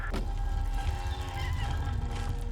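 A cat in the Imposter Factory game meows in a short clear cry near the start, then goes quiet over faint background hum.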